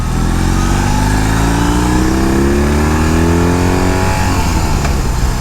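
A 2021 BMW R18 1800cc cruiser motorcycle engine accelerates steadily up through its revs, a loud, close, continuous rumble with rising pitch and no talking.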